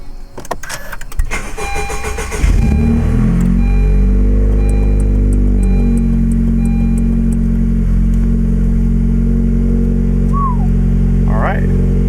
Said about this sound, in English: we're going to go ahead and start the car, make sure there's no misfires off the start